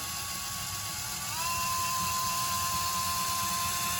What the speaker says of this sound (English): what we're going to do is we're going to apply the drill.